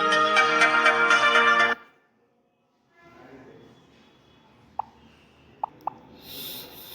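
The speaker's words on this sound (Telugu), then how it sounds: "సారీ, మధ్యలో కాల్ వస్తుంది." A phone ringtone announcing an incoming call plays a loud, repeating melodic chime for under two seconds, then cuts off abruptly, leaving faint room noise and a few small clicks.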